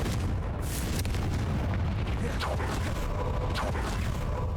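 Confringo fire spell explosion in Hogwarts Legacy, a few muffled booming bursts and crackling pops set against a constant rumbling game ambience, moderately loud and without speech.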